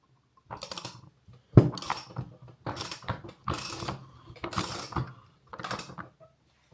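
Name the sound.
threading and tightening pipe reducer fittings on gas regulator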